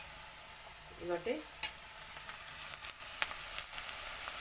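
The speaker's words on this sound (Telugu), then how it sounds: "చూడండి, వేగుతున్నాయి కదండి." Lentils for thota kura fry sizzle faintly in a pan, a soft steady crackle with a few light stirring clicks and pops, while someone speaks briefly over it.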